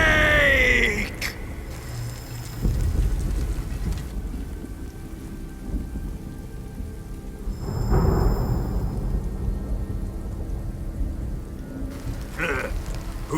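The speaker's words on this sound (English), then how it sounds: "Who's afraid of a little thunder?" Rain pours steadily in the stealth game Metal Gear Solid Delta: Snake Eater, with low rumbles of thunder rolling through and a louder crack swelling near the middle, the storm continuing alone without speech.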